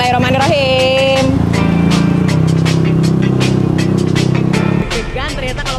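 Motorcycle ride through a neighbourhood block, a steady throbbing engine drone with shifting revs under loud music or voices, the engine note dropping near the end.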